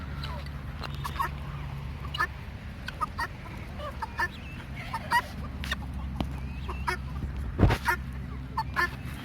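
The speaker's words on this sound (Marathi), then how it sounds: "गिनी फॉल नावाचे सुद्धा प्रकार माझ्याकडे उपलब्ध आहेत" Guinea fowl call in scattered harsh, clipped cries, some near and some farther off, over a low background hum.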